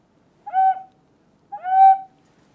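A Native American style flute blown in two separate breathy, hooting tones, each about half a second long with a slight upward bend at the start, clear and close against silence.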